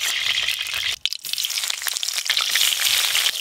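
Cabbage pieces fry in hot oil until reddish, giving a dense, steady sizzle that drops out briefly near the start and then resumes at full strength, with no voices.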